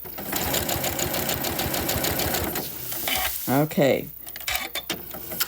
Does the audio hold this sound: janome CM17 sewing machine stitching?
yes